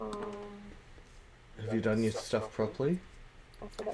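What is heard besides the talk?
No everyday noise stands out behind the speech.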